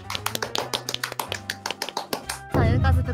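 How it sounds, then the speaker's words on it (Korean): Quick, uneven claps or taps ring out over a tonal musical backdrop, then a loud continuous burst takes over near the end. "박수 안 멈추는 거 봐"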